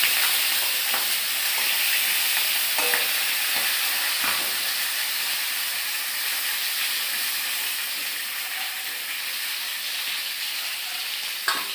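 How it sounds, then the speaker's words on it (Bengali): A catla fish head sizzles steadily in hot oil in a pan, a loud continuous frying hiss with occasional spits and pops and no voices. "আমার কাতলা মাছের মাথা এই যে হয়ে গেছে ভাজা"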